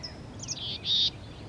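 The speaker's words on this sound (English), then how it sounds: "A chickadee is talking back to you" A black-capped chickadee calls in a backyard with a few short, high, clear whistled notes, moderately close against a quiet outdoor hiss, with no talk.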